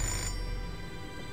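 A telephone rings in the video game Fahrenheit, a short electronic ring that sounds clearly and then fades into a steady background hum.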